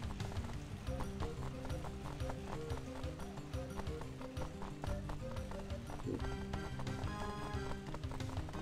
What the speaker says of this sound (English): You listen to the door, you hear horses.